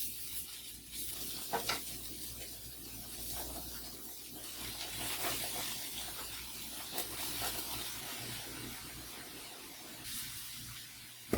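Cauliflower rice and browned vegetables in a pan give a continuous sizzling hiss with faint scraping as they are stirred, with a few soft clinks and a sharp knock at the end, and no talking.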